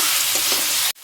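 Spiced mixture sizzling as it is fried and stirred into a mashed potato and banana-blossom filling for crispy mocha chop, steady broadband frying close up, cutting off abruptly near the end.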